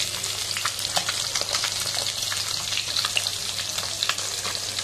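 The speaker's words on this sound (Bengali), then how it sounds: "মাছ ভাজা হচ্ছে" Pieces of katla fish frying in a pan give off a dense, even sizzle up close, crackling and popping without pause, with no talking.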